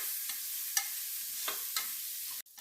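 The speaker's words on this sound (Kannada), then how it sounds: "ಈರುಳ್ಳಿ ಚೆನ್ನಾಗಿ ಮೆತ್ತಗಾಗಬೇಕು ಅಲ್ಲಿವರೆಗೂ ಹುರ್ಕೋಬೇಕು" Continuous sizzle of onions frying in a pan for a chitranna tempering, with a few soft scraping stirs spaced through it.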